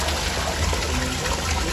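Drinking water from a spring source runs continuously into a freshly cleaned tank, a steady close trickle and splash with a low rumbling undertone throughout.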